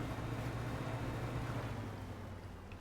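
A small boat engine in a fishing video game drones steadily with a low, even rumble and faint watery wash behind it, continuous and unaccompanied by speech.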